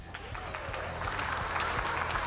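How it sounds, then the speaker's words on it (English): Soft, light clapping from a small group comes through quietly and at a distance, a gentle patter that swells slightly near the end over a faint background. "you get a little soft clap for that one as well"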